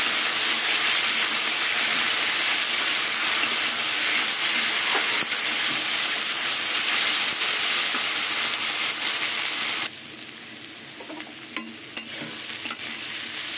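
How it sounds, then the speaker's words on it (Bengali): Onion and potato frying in a pan with turmeric, a loud steady sizzle and hiss with stirring that drops noticeably quieter near the end, no voices. "এবার পেঁয়াজ আলু কিছুক্ষণ ভাজবো।"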